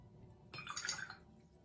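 A paintbrush swished in a jar of rinse water makes a brief, soft splashing and dripping, faint and close, with no talk over it.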